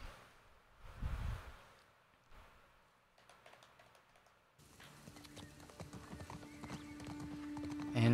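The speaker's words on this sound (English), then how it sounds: "I'm not the best at riding the horse" Horse hooves clop in a steady rhythm while riding a horse in The Last of Us Part 2, faint at first and then louder over game ambience.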